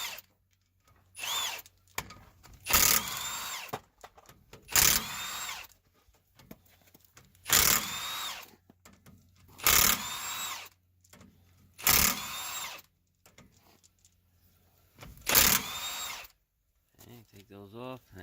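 A power tool, probably an impact gun, spins rear axle bolts off a Ford F350 Super Duty dually in six or seven short sharp whirring bursts, up close, with a low hum in the gaps and brief talk nearby.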